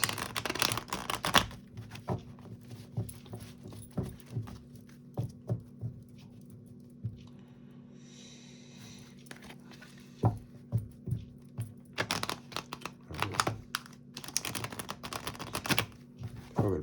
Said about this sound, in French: on va mélanger d'abord les petites cartes